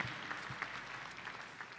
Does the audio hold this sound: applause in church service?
yes